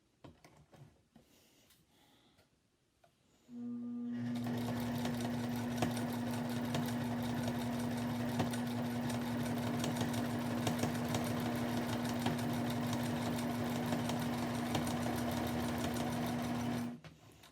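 A sewing machine stitches appliqué onto a quilt, starting after a few quiet handling sounds and then running steadily and loudly for about thirteen seconds with a constant whirring drone before stopping, no speech.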